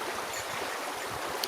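Steady broadband rush of a creek flowing through dense bush in grizzly and cougar country, a continuous close wash of water with no voices.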